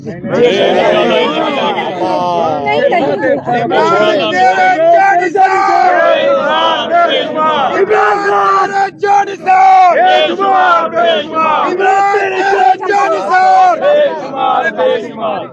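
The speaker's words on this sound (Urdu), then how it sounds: "کاش یہ پچھلے 4 مہینے میں ہم یہ نعرے سن لیتے" Loud rally crowd in Pakistan chanting political slogans for Imran Khan in continuous rhythmic unison, voices overlapping and shouting throughout with scattered yells.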